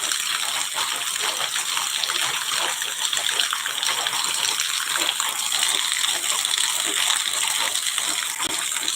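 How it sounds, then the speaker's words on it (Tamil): Rainwater rushing and splashing after heavy rain, a dense, continuous gush of running water with fine spattering throughout, fairly loud and close, with no voices over it. "மழை தண்ணி எவ்வளோ தண்ணி வந்துட்டுருக்கு பாருங்க"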